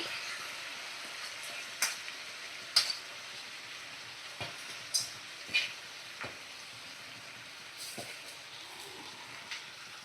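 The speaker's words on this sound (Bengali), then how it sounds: "আমি 3 কাপ গোবিন্দভোগ চাল আধ ঘন্টা ভিজিয়ে রেখে দিয়েছিলাম, তো সেটাই দিয়ে দিচ্ছি।" Soaked Gobindobhog rice goes into a pot of fish-head muri ghonto and is stirred, giving a faint, soft sizzle broken by occasional scrapes and knocks of a spoon against the pot.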